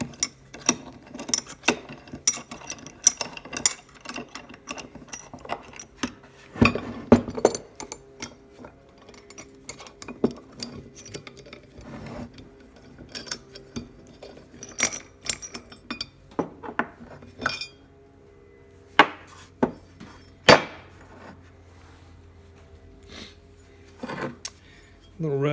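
A worn Pony 24545 bench vise is taken apart, with scattered metallic clinks, ratcheting clicks and scraping of steel parts. Occasional louder knocks stand out, and quiet background talk is heard at times.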